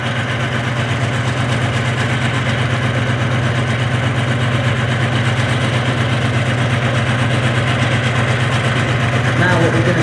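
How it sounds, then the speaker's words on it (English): A modern British Army armoured fighting vehicle moving forward during a display demonstration, its engine giving a loud, steady, low rumbling drone that barely changes across the whole stretch. "We're going to see the armoured fighting vehicle push forward"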